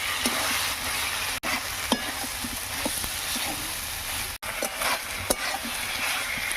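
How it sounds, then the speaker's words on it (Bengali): Potatoes and soybean chunks stir-fry in spice paste with softened tomato, a steady sizzle broken by repeated scrapes and clacks of a spatula against the pan, close and continuous. "আলু আর সোয়াবিন গুলো দিয়ে একটু কষে নেব।"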